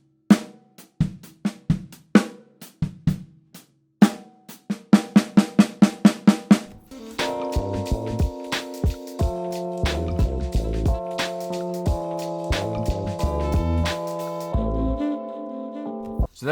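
Snare and drum-kit strokes land as a string of crisp, evenly spaced hits that speed up into a quick run, then give way to sustained, chord-like tones punctuated by further hits.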